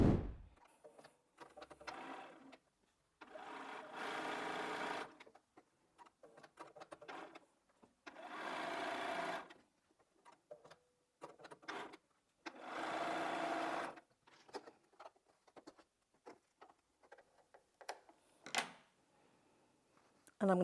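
Sewing machine stitching quilt pieces for a jelly roll quilt, running in several whirring bursts of one to two seconds separated by pauses, with handling clicks and a few quiet spoken words between runs.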